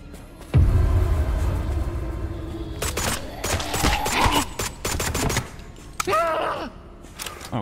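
Guns fire in a zombie horror video game: a heavy blast opens, then dense rapid bursts of shots crackle amid groans and game noise, with a brief voice near the end.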